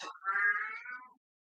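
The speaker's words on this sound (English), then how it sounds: "What do you want, cat?" A house cat gives a single drawn-out meow lasting about a second, close and clear, then silence follows.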